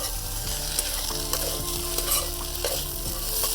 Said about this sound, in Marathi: दहा मिनटं भाजी शिजून घ्यायची आणि मध्ये मध्ये ना थोडी थोडी हलवत राहायची